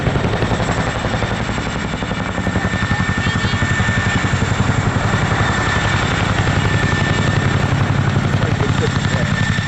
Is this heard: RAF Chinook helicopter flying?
yes